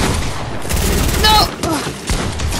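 Gunfire in the video game Fortnite, a loud burst of rapid shots and impacts over about two and a half seconds, with a short sharp crack near the middle and another burst toward the end.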